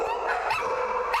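A rescued dog, one of dozens taken from a home, gives a couple of short, fairly close barks and yips over a quiet background.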